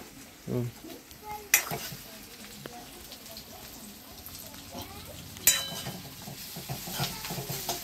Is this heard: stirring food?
yes